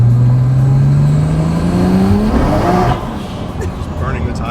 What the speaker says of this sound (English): Just burning the tires.